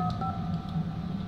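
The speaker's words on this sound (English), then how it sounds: "I'm gonna use the phone now." Phone keypad tones sound as keys are pressed on a phone in a Roblox game, a short run of clear dialing beeps that blend together, moderately quiet and with no talking.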